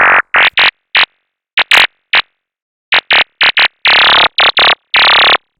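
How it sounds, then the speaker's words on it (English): An FM synth patch routed through a frequency shifter in Phase Plant gives out short, loud, gritty bursts in a choppy stuttering rhythm, some longer near the end, with silence in between. "now let's route that to the frequency shifter"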